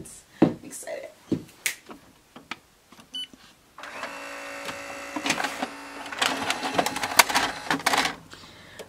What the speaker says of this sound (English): I'm about to turn on the printer and we're about to print out these designs.